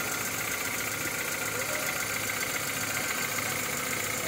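A Toyota Tercel with a 2E engine, previously misfiring and hard to start in the morning, now idles smoothly. Its steady, even hum runs continuously and close by with no variation.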